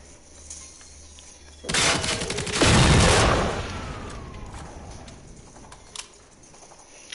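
Gunfire in the video game Generation Zero, a sustained loud burst of shots lasting about a second and a half, then fading to quieter game ambience with a faint crack near the end.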